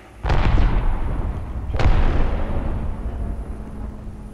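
Two grenade explosions from Apex Legends go off in close succession, each a sharp, loud burst trailing into a long rumbling decay that lingers over the rest of the moment.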